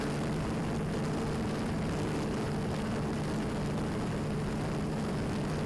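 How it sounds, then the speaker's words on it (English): A Quanum Overlord quadcopter flies with its propellers giving off a steady, unbroken whirring drone that holds an even loudness throughout. "video's looking good, copter's going fine"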